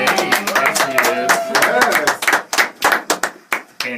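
Studio audience clapping and cheering for a guest introduced on a talk show, a dense burst of applause with voices over it that breaks into scattered, separate claps toward the end.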